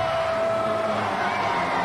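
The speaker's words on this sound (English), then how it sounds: "You can hear the crowd picking up the chant now, USA, USA." Large wrestling arena crowd of about a thousand people chanting USA, a steady wash of massed voices held at a constant level with no pause.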